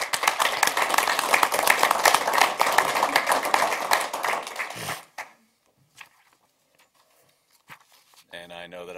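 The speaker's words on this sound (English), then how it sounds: "I just would like to give them a round of applause for the hard work" A burst of clapping from a group at a fire district board meeting fills the first few seconds, then cuts off into near silence with faint small sounds and a brief voice.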